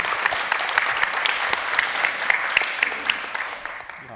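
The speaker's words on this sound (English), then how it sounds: "I think she deserves another round of applause" A panel discussion audience breaks into steady, dense applause that holds strong and then tapers off near the end, with no voices over it.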